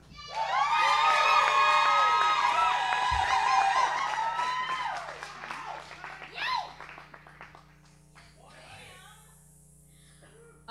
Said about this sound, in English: you guys are going to scream like crazy when I say her name